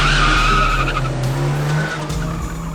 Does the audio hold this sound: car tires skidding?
yes